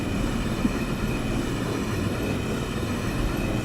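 An R46 subway train runs in the BveYard train simulator game, a steady, loud rumble of wheels and motors on track with no break, heard alone throughout.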